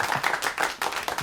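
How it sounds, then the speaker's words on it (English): Loud clapping and applause with cheering in an interview setting, dense bursts of claps swelling and dipping across a short stretch, close and lively. "And loud applause."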